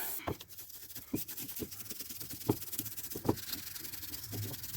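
Corrosion is scraped off a Chevrolet Cobalt wheel hub during cleaning with brake cleaner: quiet, irregular scratchy rasps and short scrapes, spaced unevenly over faint background hiss, with no talking.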